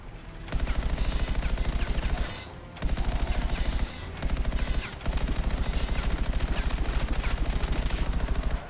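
Sustained automatic gunfire in the video game Anthem, rapid rhythmic bursts that stop briefly around two and four seconds in before resuming, loud and close with no talking.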